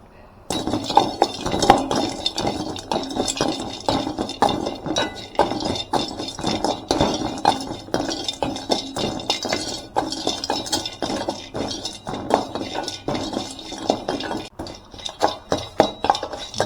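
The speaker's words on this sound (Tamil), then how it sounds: "பட்டை, கிராம்பு, பூண்டு இது எல்லாத்தையும் பார்த்திங்கன்னா வெறும் வடச்சட்டியில் போட்டு வறுத்து எடுத்துக்கிறோம்" Dense, continuous rattling and clinking of cinnamon, cloves and garlic being tossed and dry roasted in an empty pan, a steady busy clatter of light, rapid knocks throughout with no voice.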